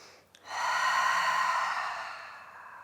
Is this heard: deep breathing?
yes